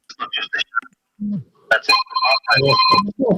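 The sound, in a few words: phone ringing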